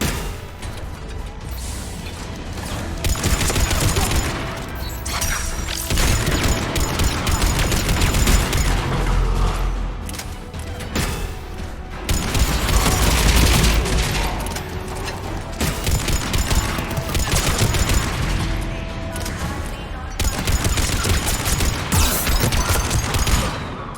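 Sustained Mass Effect 3 firefight: dense, continuous gunfire and bursts of automatic shots with heavy booms, loud and steady throughout, no speech.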